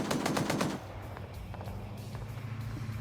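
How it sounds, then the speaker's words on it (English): A .50 caliber machine gun fires in a video game, a rapid, loud burst of about eight heavy rounds that cuts off after the first second, leaving a rumbling engine and faint scattered shots. "50 cal still firing."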